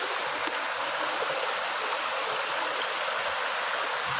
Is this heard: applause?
no